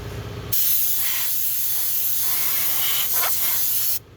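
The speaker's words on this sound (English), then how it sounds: "Big old air compressor." A big old air compressor running in a workshop, a loud continuous close-up hiss that starts abruptly, holds steady for about three and a half seconds and then cuts off.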